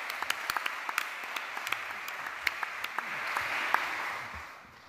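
An audience at the Sustainable Living Festival applauds to welcome David Holmgren, with steady clapping and sharp individual claps standing out from the roar before it tapers off near the end.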